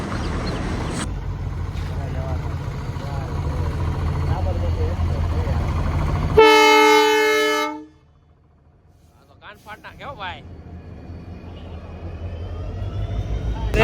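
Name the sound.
train passing through Vietnam's Train Street market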